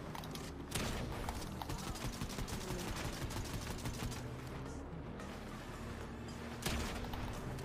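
Fortnite game gunfire comes as dense rapid bursts of shots with a few louder blasts, continuous over busy game sound.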